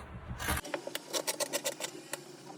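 Scissors cutting straight through fabric for a child's boxer shorts, with a soft rasping rub at first, then a series of crisp, close snips in an uneven rhythm.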